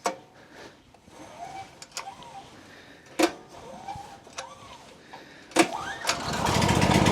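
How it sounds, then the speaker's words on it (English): A small gasoline engine is pull-started with the choke on, with several sharp rope pulls and brief sputters before it catches and settles into a steady, rising run close by. "The battery's been dead for years, so I just choke it and pull start it."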